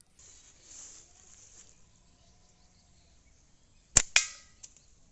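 A slingshot fires 6.35 mm ammo balls, with two sharp snapping cracks in quick succession near the end, following a quiet stretch with faint insect chirping in the background.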